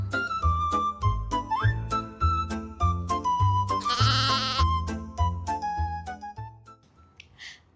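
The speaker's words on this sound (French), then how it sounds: "Au revoir agneau!" A lamb bleats once, clearly and with a wavering tone, over a bouncy rhythmic children's tune with regular beats and a melody line; the music fades out at the end.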